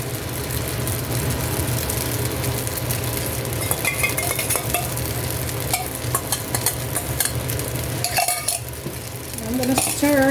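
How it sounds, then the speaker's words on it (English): Sauce poured onto noodles frying in a pan, a loud continuous sizzle with utensils scraping and clinking against the pan as they are stirred, growing busier toward the end. "Now I'm gonna add my sauce."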